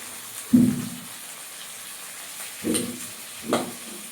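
Hilsa fish fries in oil in a wok, with soft sizzling under a low background hiss and three short bursts of spitting and crackling, heard alone.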